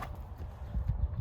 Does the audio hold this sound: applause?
no